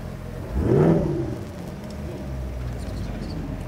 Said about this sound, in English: As he drives by, you can probably take a peek and see that engine.